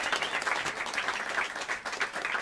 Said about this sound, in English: if you could help me welcome them to the stage with some warm applause as I mention their names